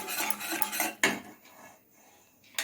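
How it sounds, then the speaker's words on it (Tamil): A whisk stirs a sweet kali mixture in a pot with rapid clinking and scraping of metal against metal, close and fairly quiet, then a few sparser taps. "இந்த மாதிரி விஸ்கு வச்சு கலந்தீங்கன்னாக்கா கட்டி போடாமல் வரும்."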